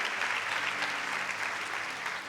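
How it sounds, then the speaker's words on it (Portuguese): Church congregation gives a strong round of applause for Jesus, a dense, even wash of many clapping hands filling the room, with a faint low hum beneath and no speech. "pode dar uma salva de palmas bem forte para Jesus."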